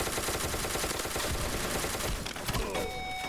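Rapid submachine gun fire in a video game, dense bursts of shots rattling continuously and loudly, with extra impacts and clatter near the end.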